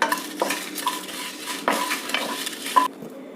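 Chillies dry-roast with spices in a pan, a spoon scraping and stirring in several sharp strokes over a faint, dry sizzle, close and fairly loud, with no voices.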